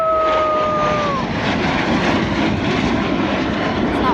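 At an airshow, a jet aircraft roars past in a loud, steady broadband rush that stays strong for several seconds, with a faint whistle-like tone early on.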